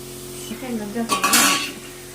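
A burst of sizzling as wheat-flour dough drops into hot oil, a brief bright hiss rising over a low background hum, with faint clinks of utensils.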